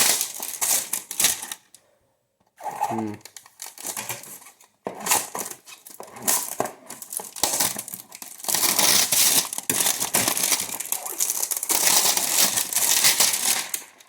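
Crinkling plastic packaging and sharp snipping scissor cuts come in irregular bursts, close up, with a short pause and some rustling handling between, while a Bachmann N scale Santa Fe steam engine model is unboxed.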